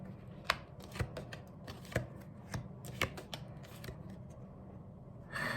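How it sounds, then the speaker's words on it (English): Tarot cards being laid out one by one, giving sharp, close snaps and slaps at a fairly steady pace of roughly two per second over a low background hum, with no talking. "Let's put up all the cards before we start"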